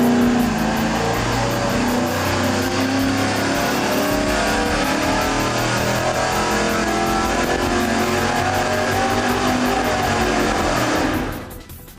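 An engine on a dynamometer revs hard and loud through a sustained pull, its roar holding steady before cutting off sharply at the end.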